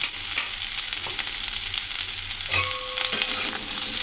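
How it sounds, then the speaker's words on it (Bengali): Potato and cauliflower pieces fry in a pan, giving a steady hiss of sizzling oil with light stirring scrapes, close and moderately quiet with no talking. "আলু আর ফুলকপি একটু ভেজে নেওয়ার পরে"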